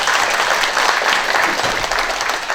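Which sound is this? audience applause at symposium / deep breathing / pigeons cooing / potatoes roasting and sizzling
audience applause at symposium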